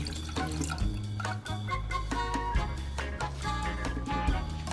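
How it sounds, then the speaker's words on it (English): Cup of water being poured for sorullos dough, a steady close pour with shifting, ringing tones lasting the whole stretch, no voices. "First, we pour the cup of water."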